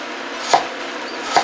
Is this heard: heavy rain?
no